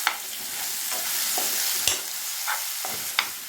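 Thick ground Chettinad kara chutney paste sautéing on low flame in a pan, with a steady soft sizzle and occasional sharp clicks of a spoon stirring against the metal.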